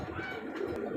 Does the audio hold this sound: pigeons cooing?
yes